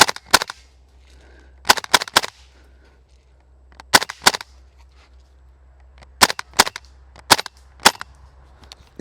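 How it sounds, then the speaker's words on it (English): KWA F90 airsoft rifle firing after a hop-up adjustment: sharp, loud snapping shots, some single and some in quick pairs or triplets, spread across the clip with quiet pauses between them. "Let's see if we can get some shots off."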